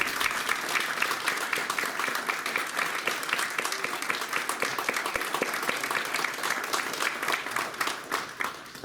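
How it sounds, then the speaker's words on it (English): A convention panel audience at a retro gaming expo gives a steady round of applause for a trading card collection creator, dense even clapping that holds for the full stretch. "can I have a round of applause for Walter"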